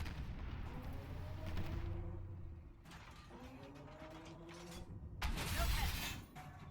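A T-54 tank in the video game Armored Warfare fires its main cannon, a heavy booming blast with mechanical clanks and creaks, set against low engine rumble at modest volume.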